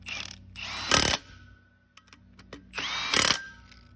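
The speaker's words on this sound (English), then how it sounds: "I was tightening up a bolt time with this impact" Two short bursts from a powerful impact wrench tightening a 3/4-inch bolt on a 2016-17 Ram 5500 truck, each a loud rattling whir lasting about half a second, separated by a quieter pause with faint clicks.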